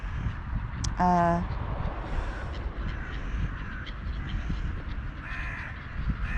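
Crows caw in the open, one loud close call and several fainter ones further off, over steady outdoor background noise.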